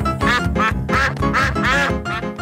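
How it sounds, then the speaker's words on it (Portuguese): A cartoon duck from the Pocoyo animated series quacks over and over in quick bursts, loud, close and clear, with no talking. "Pato, é o pato!"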